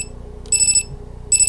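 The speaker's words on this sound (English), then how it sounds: "It also has a buzzer." A plug-in power outage light sounds its buzzer in two short high-pitched electronic beeps, close and clear, over a low steady hum.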